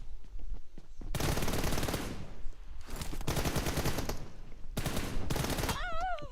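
Sustained bursts of automatic gunfire from PUBG Mobile, loud and dense, in three or four long volleys separated by brief lulls, with a rising electronic tone at the end.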